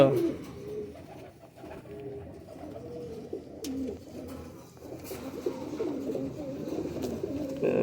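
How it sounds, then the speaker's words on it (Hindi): Patti pigeons coo softly and repeatedly at close range, low throaty calls overlapping, with a few faint clicks and rustles around them. "दोस्तों ये सब पट्टी वाले कबूतर हैं"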